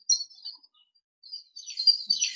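Birds chirp faintly in the background during an online class, with a few thin, high tweets scattered through the pauses and a busier burst of chirping near the end.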